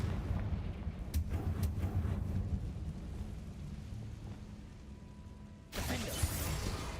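A Confringo fire spell blasts in the Hogwarts Legacy video game. A heavy rumbling roar rolls on for several seconds, with a few sharp cracks near the start. A fresh loud burst of noise hits toward the end.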